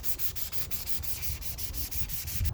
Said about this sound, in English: I'm just gonna hit it with some very light sandpaper.